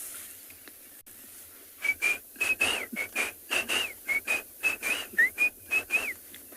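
Shelley's francolin calling on an afternoon safari in South Africa: a series of about a dozen rhythmic, fairly loud whistled notes repeat in quick bursts over a quiet background.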